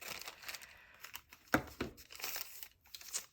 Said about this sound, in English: I love this little sticker on there, so I'll just cut it into pieces.